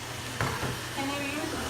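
Ground beef and potatoes sizzling in a pan as they cook down, a steady bed of frying hiss with a brief scrape of stirring, over low talk in the room.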